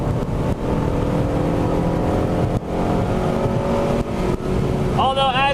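A Honda Civic Si with a K20 engine drones at a steady, labouring pitch as it exits a corner, loud and close with a few brief dips, then a tyre squeal near the end.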